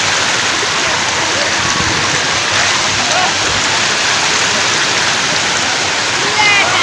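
Water pouring at Mettur Dam, a loud, steady, close rush of flowing and splashing water that fills the whole clip without a break.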